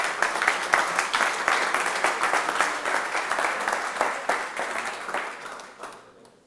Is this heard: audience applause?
yes